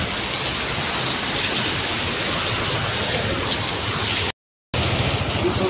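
Heavy rain pours during a storm, a steady dense roar that holds loud and even throughout, with a brief complete dropout near the end before it resumes.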